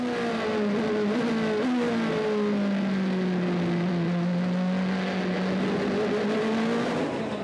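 Onboard a Rebellion LMP1 race car with a 4.5-litre V8, the engine drones loud and close, its pitch dipping and rising steadily as the car runs through a long lap section.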